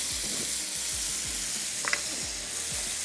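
Chicken sizzles steadily on a very hot grill pan, a loud continuous frying hiss with a few soft scrapes and a brief clink partway through, and no voices.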